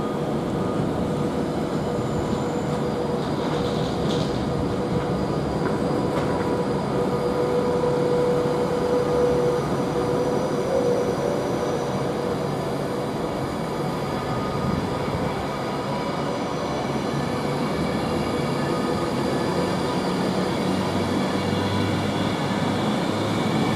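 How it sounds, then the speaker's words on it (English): A Class 390 electric train sets off from Nuneaton station on the West Coast Main Line, bound from Manchester Piccadilly to London Euston, with a sustained loud rumble and rising motor whine heard steadily throughout, no talk. "also getting ready to go is A390, I don't actually know the number, from Manchester Piccadilly to London Euston"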